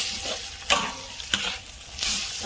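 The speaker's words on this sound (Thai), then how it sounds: "อันนี้ผัดให้ดู" Sliced pork sizzles loudly in a hot pot while a utensil scrapes and stir-fries it, with a few sharper clanks against the metal.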